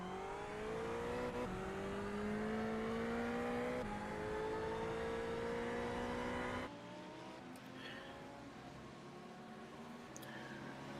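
A GT3 race car in iRacing pulls out of the pit lane at Silverstone, its engine loud and close, climbing steadily in pitch through repeated upshifts before dropping to a quieter, lower drone.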